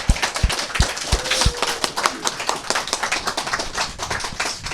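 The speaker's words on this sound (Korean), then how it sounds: "all welcome them with a round of applause" A small outdoor church picnic congregation claps, with a few sharp, distinct claps first and then scattered, uneven clapping that stays fairly close and light.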